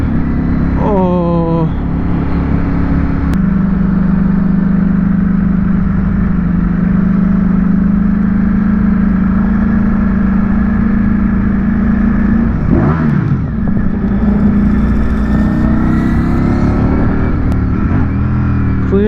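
A 2023 Ducati Streetfighter V4 SP2 motorcycle engine pulls hard under acceleration on a road ride, with a steady loud drone, quick-shifted gear changes and a sharp rising rev near the end, with a rider talking over it.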